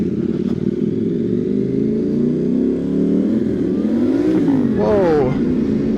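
A motorcycle engine revs loud and close while shifted into neutral on a ride into town, its pitch climbing and swooping in bursts over a steady running drone.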